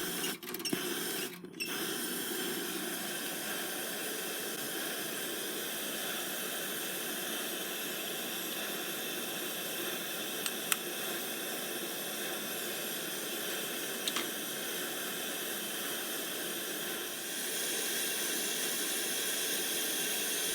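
British Military #12 stove burner fitted with a silent damper cap, with an unheated feed tube, roaring as a steady close hiss for about twenty seconds after a few brief knocks at the start; no one talks.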